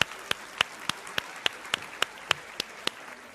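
A studio audience at a televised Hindi debate show claps in a steady, evenly spaced rhythm, sharp distinct claps repeating about three times a second, with no talking.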